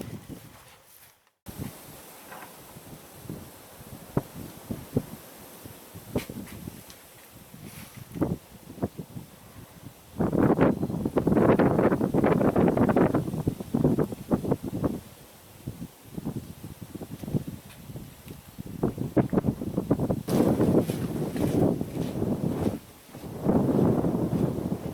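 Cold winter wind buffets the microphone on an open hike near a lily pad pond, coming in loud, roaring gusts that swell and fade, with rustling between and quieter stretches early on.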